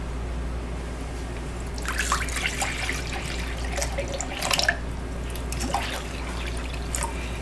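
Aloe liquid trickles and drips into a container while body wash is being mixed, an uneven run of small splashes and dribbles over a low steady background hum.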